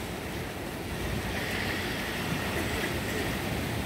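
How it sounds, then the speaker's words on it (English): A southern swell of ocean waves breaks against a seawall, making a continuous broad wash and rumble with wind noise across the microphone and no clear separate crashes. "you can just hear it when it hits the seawall"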